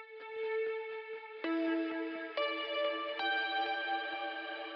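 Synth chords drenched in heavy reverb during music production, sustained tones stepping up to new chords about every second, with long smeared tails and soft muted plucks underneath, fairly quiet.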